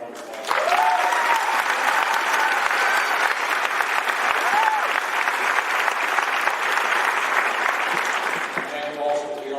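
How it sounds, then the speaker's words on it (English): Sustained applause fills a graduation ceremony crowd in a large hall, steady and loud for nearly ten seconds, with a few faint whistles and cheers rising above the clapping. "let's give him a round of applause"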